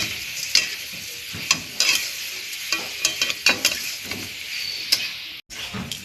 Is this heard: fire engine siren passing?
no